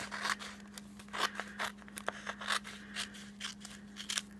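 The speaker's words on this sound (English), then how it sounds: "let's just use my scissor and cut around" Scissors cut around a gold foil sheet in a quick series of crisp snips, each blade closure a short bright crunch, close to the microphone over a faint steady hum.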